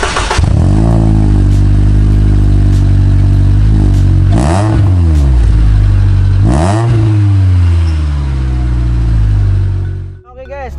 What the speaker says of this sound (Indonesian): Dan kita dengar suara knalpotnya dulu.